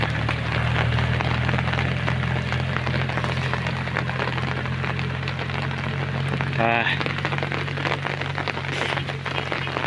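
Heavy rain pours steadily on a Thai cassava field during harvest, a dense continuous hiss with a low steady hum beneath and a brief sharp click partway through.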